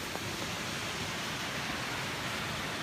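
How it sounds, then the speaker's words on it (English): A small waterfall in a snowy mountain setting near a hotel gives off a constant, even hiss of falling water that sounds fairly close, with no talking. "Nice little waterfall."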